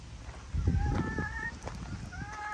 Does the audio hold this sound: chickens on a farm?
yes